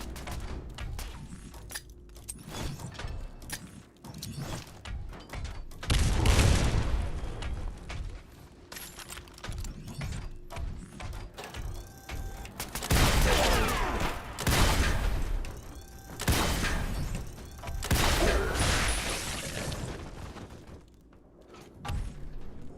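Gunshots in Fallout 76, loud bursts of firing in several clusters separated by quieter stretches of ambient game sound, with sharp impacts standing out.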